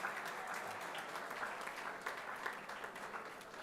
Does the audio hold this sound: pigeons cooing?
no